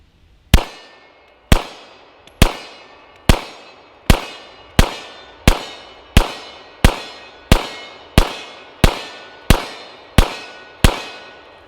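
Fourteen sharp 9mm gunshots firing 115 grain Blazer brass ammo, loud and close, evenly paced about every 0.8 seconds, each crack ringing out briefly before the next, no voices.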